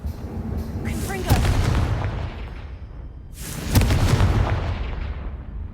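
Two loud Confringo fire-spell blasts in Hogwarts Legacy, each a sharp booming crack followed by a rolling decay, spaced a few seconds apart over steady game ambience.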